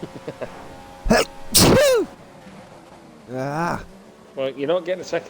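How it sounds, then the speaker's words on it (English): A person sneezes sharply, once and then again, with gasps and short spoken bits between the bursts, close to the microphone. "I'm going to sneeze again."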